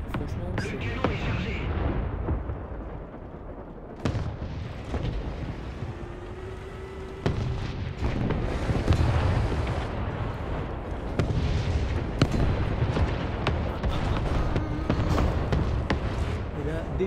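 Tank cannon rounds from an ARL 44 in the War Thunder combat game boom out as a couple of sharp, heavy blasts over a steady rumble of engine and battle noise, with more distant impacts scattered throughout.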